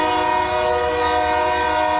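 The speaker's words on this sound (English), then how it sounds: "it won't be as loud as the train's whistle" A train horn blasts with a continuous, loud, multi-tone chord held steady for about two seconds, in downtown Bryan.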